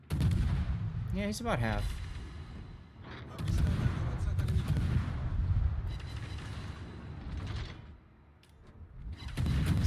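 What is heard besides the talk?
warship naval gunfire in World of Warships video game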